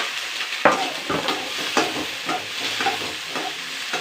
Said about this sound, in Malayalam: എണ്ണയിലിട്ടൊന്ന് വഴറ്റട്ടോ.